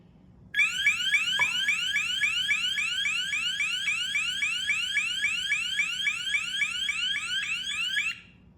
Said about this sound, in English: Just a heads up, it is pretty loud with the beeps.